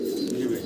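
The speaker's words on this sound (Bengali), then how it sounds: "লং ফেস কবুতর দেখাচ্ছি আপনাদেরকে" Long face pigeons cooing, a soft, low, continuous throaty coo heard close by, brief and alone without talk.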